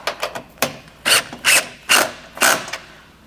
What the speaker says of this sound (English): I'm gonna tighten them down now